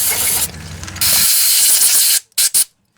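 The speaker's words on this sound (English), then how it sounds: "Just spray a little fluid down in there." Cleaning fluid sprays from an aerosol can into the carburetor jets of a Craftsman lawnmower that has sat unused, with a long, loud, close hiss followed by a couple of short, sharp spurts.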